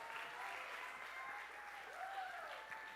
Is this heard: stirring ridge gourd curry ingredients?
no